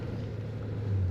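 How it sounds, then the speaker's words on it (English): A brief, steady low hum from a 1975 Cadillac Eldorado engine running while driving, smooth and close with no talking. "Very smooth running car."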